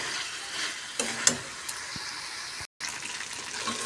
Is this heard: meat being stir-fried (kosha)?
yes